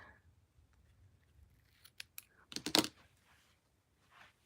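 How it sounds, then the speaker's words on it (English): Scissors snipping paper in a quiet room during a card-making craft session, a few close, crisp cuts clustered in the middle. "I'm gonna trim it off just a little bit."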